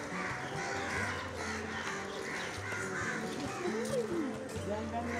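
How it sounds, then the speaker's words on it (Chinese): A flock of crows caws repeatedly along a busy road near Humayun's Tomb in Delhi, harsh calls overlapping at mid distance amid crowd murmur and traffic hum. "哇，好多乌鸦哦！"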